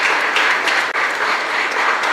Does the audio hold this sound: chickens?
no